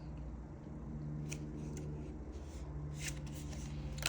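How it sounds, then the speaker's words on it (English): Cards from a Yin Yang deck are shuffled and one is drawn, giving quiet, close crisp riffling and brief slapping bursts over a low steady hum, with no talking. "I feel called to take a card from my Yin Yang deck"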